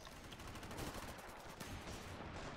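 Rapid gunfire from the Ravenfield video game, a dense, continuous rattle of shots that stays loud and close the whole way through, with no speech over it.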